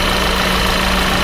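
A 2012 VW Jetta 2.0 TSI turbo engine runs steadily at idle, heard close up as a loud continuous hum with a fine mechanical buzz.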